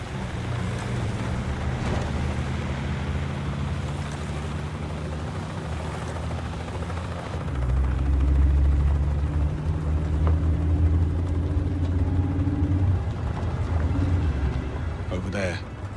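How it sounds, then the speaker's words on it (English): A helicopter approaches as a low, throbbing rotor rumble that swells noticeably about halfway through and stays close and heavy, with voices faintly underneath. "Bavma's heli is inbound"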